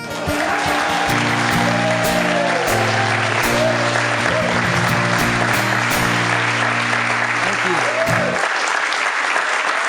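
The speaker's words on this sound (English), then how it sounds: "never understood the concept of nervous applause" Audience applause after a live song performance, a steady dense clapping that fills about ten seconds while the last sustained musical tones ring underneath for most of it, then the clapping continues alone.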